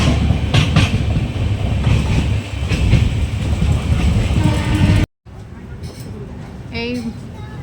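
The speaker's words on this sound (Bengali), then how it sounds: "খড়গপুর ছেড়ে আমাদের ট্রেন আবার স্পিড নিয়েছে" Leaving Kharagpur, the Rupasi Bangla Express picks up speed with a loud rolling rumble and rhythmic clickety-clack of wheels; it cuts off abruptly to a quieter stretch where voices are faintly heard.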